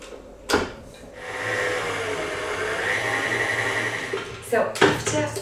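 A stand mixer kneads sweet stollen dough, giving a steady motor whir with a rhythmic churning hum, close and fairly loud, framed by a couple of sharp knocks and clatters at the start and end.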